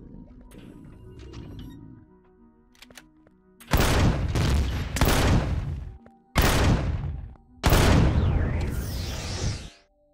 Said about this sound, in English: that's why I got the minigun out.